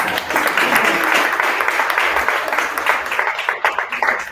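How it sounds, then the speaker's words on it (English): A crowd at a performance showcase applauds a young performer with dense, steady clapping that stays loud throughout and breaks into looser individual claps near the end. "Give this young man another round of applause"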